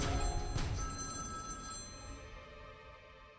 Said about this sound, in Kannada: ಹಾ, ಕರಣ್ ನಂಬರ್ಗೆ ಮಾಡ್ತೀನಿ.